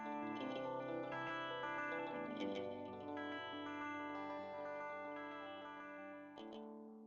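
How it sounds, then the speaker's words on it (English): Processed tones with a delay effect, where the delayed sound arrives late enough to be heard as a separate echo, giving smeared, repeating notes with chorus-like shimmer and no talking. "If the delayed sound arrives later than 30 to 50 milliseconds after the direct sound, we hear the two waves separately, with the delayed sound perceived as an echo"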